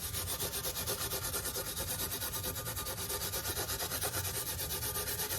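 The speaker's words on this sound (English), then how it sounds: "See what happens when I sand it?" Hand sanding on wood of refurbished furniture makes a steady rhythmic rubbing, quick regular back-and-forth strokes, close and fairly quiet, with no voices.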